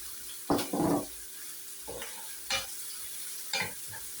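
A few short bursts of stirring scrape through spaghetti, tuna and onion frying lightly in oil in a pan, separated by quiet gaps over a faint background sizzle, close and fairly soft.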